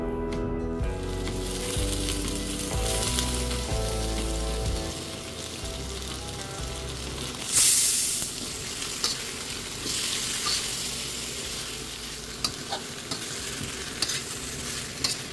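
Chicken and vegetables with beetroot, carrot and papaya fry in a kadai, a steady close sizzle with stirring scrapes and a brief louder hiss near the middle, no voices.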